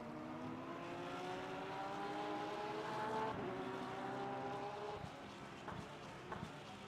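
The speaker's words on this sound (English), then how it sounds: "There is new AMG coming." A Mercedes AMG race car approaches in the Le Mans Ultimate racing game at Interlagos. Its engine whines through rising and falling gear pitches, fairly faint behind the hum of the player's own car.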